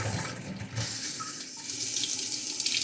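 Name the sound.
water faucet sputtering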